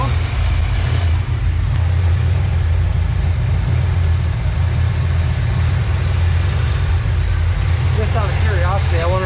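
A 1986 Trans Am engine idles at around 850 RPM with a steady, close, low rumbling throb, even and continuous throughout.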